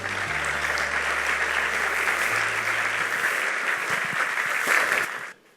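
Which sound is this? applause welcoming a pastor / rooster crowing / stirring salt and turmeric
applause welcoming a pastor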